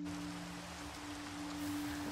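Steady, soft rain in the Minecraft video game, an even hiss that continues without a break alongside a low, constant tonal hum.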